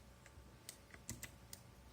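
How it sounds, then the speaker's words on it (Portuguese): Typing on a Sharkoon PureWriter TKL RGB mechanical keyboard with Kailh Blue switches: a handful of faint, crisp clicks at an uneven pace, alone in a quiet room. "Digitando."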